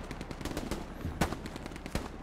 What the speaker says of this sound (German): Wird auch schon geknallt.